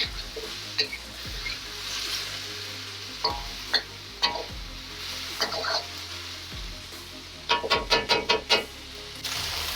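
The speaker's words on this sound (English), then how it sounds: "And just cook the sprouts down for about 30 seconds." Bean sprouts sizzle in a hot wok while being stir-fried for Hong Kong chicken pan-fried noodles, a steady close frying hiss punctuated by sharp scraping and clanking of the spatula, with a quick burst of rapid knocks near the end.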